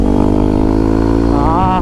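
A Kawasaki KLX 230 dual-sport motorcycle, freshly back from engine repair, holds a steady, loud engine drone while riding, with a brief pitch wobble near the end.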